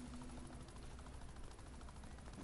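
A helicopter boss in the video game The Division churns with a steady rotor roar, layered with rapid bursts of gunfire, all at a faint level.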